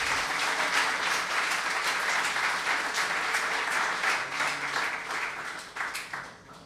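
A church congregation applauding together, a dense, sustained wash of many hands clapping that holds steady and then tapers off toward the end.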